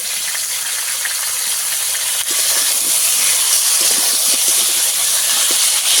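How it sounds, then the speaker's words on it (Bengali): Potatoes frying in oil in a pan while a Bengali fish curry with cauliflower is cooked, giving a loud, steady sizzling hiss with small crackles and pops throughout, close by and without talk. "আলু ভালো করে আমি একটু কষিয়ে নেব"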